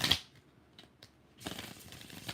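Tarot cards being shuffled by hand, giving a short riffling burst at the start, a few faint taps, then a longer papery shuffle near the end, close and fairly quiet.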